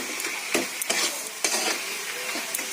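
Salted fenugreek greens are stirred and mixed in a pan, with a spatula scraping in several distinct strokes over a soft, continuous sizzle.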